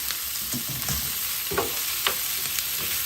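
Gizzard roasting in a pan with well-sautéed onions for Nigerian suya gives a steady close sizzle and frying hiss, broken by a few scraping stirs.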